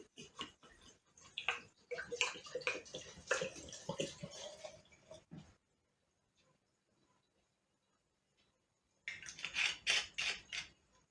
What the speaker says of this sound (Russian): Заливаем водкой.